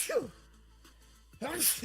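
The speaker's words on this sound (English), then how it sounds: "Whoa, I'm sneezing." A single sneeze from a person on a live market stream: a sharp breathy burst at the start and another rising burst near the end, close and moderately loud, with no talking in between.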